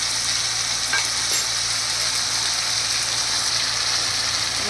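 Diced potatoes frying in hot oil in a pan, a steady loud sizzle with occasional scraping of a stirring spoon, continuous and close with no talking.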